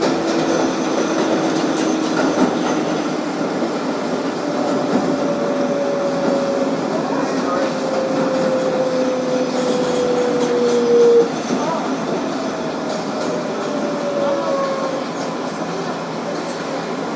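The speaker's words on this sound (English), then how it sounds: "This is a Queensboro Plaza bound 7 train." A 2012 Kawasaki R188 subway car on the New York 7 line runs steadily, with a constant rolling rumble, a faint whine that slides in pitch and brief wheel squeals partway through, all heard from inside.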